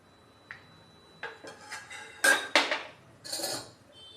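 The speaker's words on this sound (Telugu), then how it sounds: "తాలింపు గింజలు వేస్తున్నాను" Tempering seeds dropped into hot oil in a kadai on a stove, giving a few separate sharp clinks and sizzling bursts that grow more frequent, close and clear with no talking.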